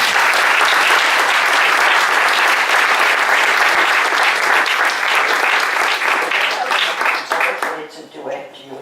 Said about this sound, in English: So a big round of applause for Bob.